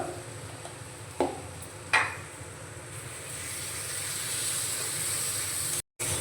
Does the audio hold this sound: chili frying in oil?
yes